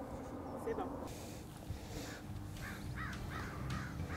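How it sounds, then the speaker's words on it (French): A crow caws on a golf course: several raspy calls come in quick succession toward the end, set against a low background hum, with faint voices in the distance. "Même si encouragé par la corneille."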